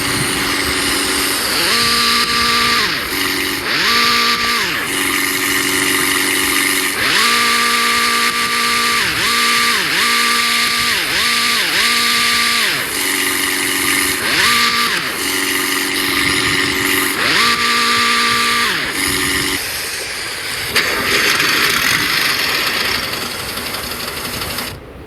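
A McLaren 728 GT3 race car engine in a video game revs loudly and continuously, with repeated rising and falling gear-shift sweeps over a steady high-revving drone, close and dominant throughout with no talk.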